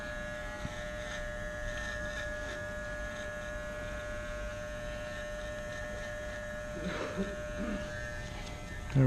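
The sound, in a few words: hair clippers cutting hair for a taper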